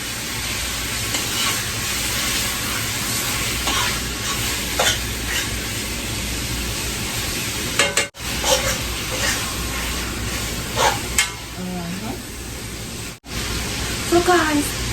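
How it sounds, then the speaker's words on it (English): Bacon frying in a pan, a loud continuous close sizzle and hiss with crackling spits, broken by two short gaps near the middle and end. "So guys, this is how your girl cook bacon"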